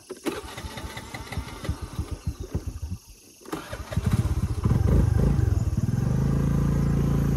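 A scooter engine cranked several times in rhythmic pulses, then caught after a brief pause and rose into a loud, steady idle running close by.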